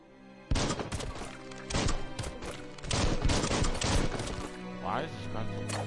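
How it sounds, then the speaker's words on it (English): Rapid bursts of Biomutant gunfire hammer out in quick succession, loud, sharp shots clustering into fast volleys with brief gaps, with a faint voice at times. "Why is this gun so fucking fast?"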